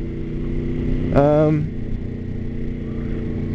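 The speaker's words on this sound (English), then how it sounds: "It just even sounds like a hot rod compared to that bike." A motorcycle engine runs with a steady, low droning hum close by, and a short rising tonal swell cuts in partway through before the even idle returns.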